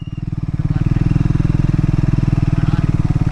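A motorcycle idles close by as it is parked near the Ajanta Caves, a steady, fast thumping engine pulse that holds loud and even throughout.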